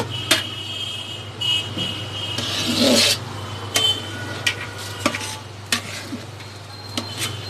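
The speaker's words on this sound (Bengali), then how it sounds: "ভালো করে ভেজে নিতে হবে চালগুলো।" Rice grains, two kilos for biryani, are fried and stirred in a pot, giving irregular gritty scraping and rasping strokes of a spoon against the metal over a steady low hum.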